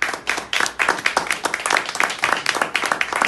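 Hands clap for a singer at a music event, a small group applauding in distinct, uneven bursts, close and fairly loud, with individual claps standing out rather than blending into a roar.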